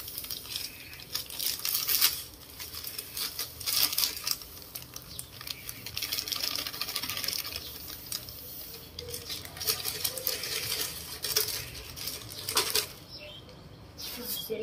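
Salt-like thickening powder is poured into homemade laundry detergent, making a steady grainy patter and hiss close by that rises and falls in density over several seconds.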